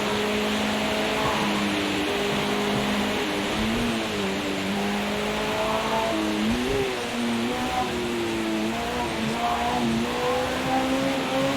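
A race car engine in Project CARS 2 on a wet Nürburgring drones loudly and continuously, its pitch climbing and dropping through gear changes over a steady wash of spray and road noise, with no talking.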